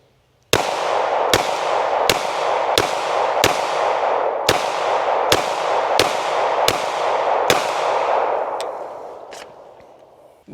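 A handgun fires ten sharp, loud shots at a shooting range in an even, fast rhythm, each crack followed by a short echo tail, then the sound fades.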